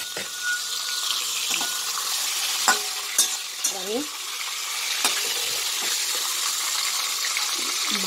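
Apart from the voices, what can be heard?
fish frying in a kadai pan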